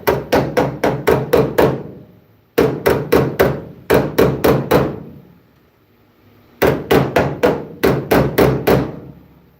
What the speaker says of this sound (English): This just happened to be the only body hammer, the only good hammer I had